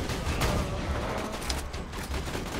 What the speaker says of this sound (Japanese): SR 連射。